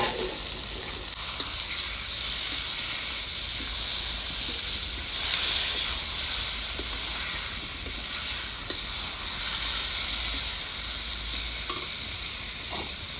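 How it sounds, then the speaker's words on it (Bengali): Chicken pieces poured into a hot pan for a village-style chicken kosha, a constant loud sizzle and hiss with faint scraping, no talk. "চিকেনটা ঢেলে দিচ্ছি, আজকে অন্য পদ্ধতিতে রান্না করব"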